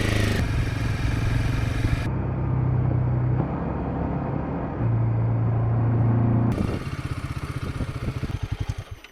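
A motorbike engine revs and drones steadily while riding in the Himalayas, rising and falling with gear changes and ending in a loud, rough, pulsing close-up rumble.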